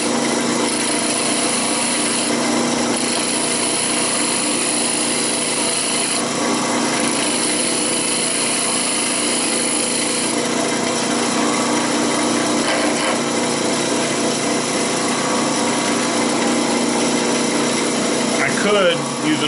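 Steady, loud, continuous scraping hum of a bowl gouge cutting a spinning wood pillar candlestick on a lathe, unbroken for the whole stretch with no pauses.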